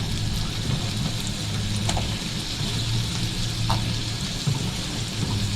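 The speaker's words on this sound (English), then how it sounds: "I'm going to add the shallot now." Shallot and potatoes frying in plenty of fat for corned beef hash, a steady close sizzle with faint bubbling and a few small pops and scrapes, running alone without talk.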